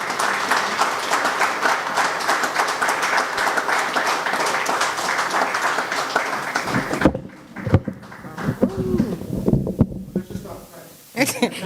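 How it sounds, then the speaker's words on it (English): Audience at a track and field meet launch event giving a standing round of applause, dense and sustained for about seven seconds, then cutting off to quieter room sounds and scattered voices. "So you can just stand and give her a round of applause for me, please, as she comes to give her response."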